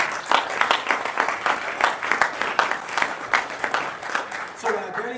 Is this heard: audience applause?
yes